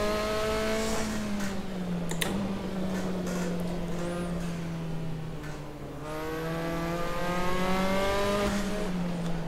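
Formula 4 open-wheel race car engine in Assetto Corsa at the Nogaro circuit, a loud, steady high-pitched engine note rising through gears with a brief lift near two seconds, then climbing again at full throttle, with no talk.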